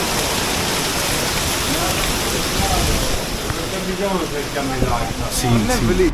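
Heavy rain pours down in an old Sicilian town, a dense, steady roar that fills the whole stretch, with a voice faintly beneath it.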